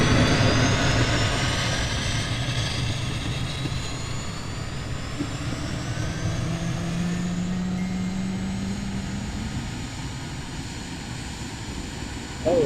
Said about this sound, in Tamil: இன்ஜின் சவுண்ட் கேட்குதா உங்களுக்கு?